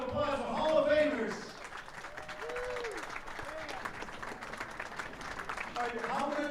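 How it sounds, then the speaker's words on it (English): Audience applause for Hall of Famers at a candlepin bowling charity exhibition, a steady wash of many hands clapping at low level, with voices heard over it at the start and end. "Please give a big round of applause for Hall of Famers."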